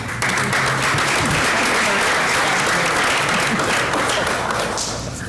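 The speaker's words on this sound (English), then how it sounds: "I'm going to clap for that." Applause from the audience at a school board of education meeting, steady dense clapping filling the room for about five seconds with no talk over it.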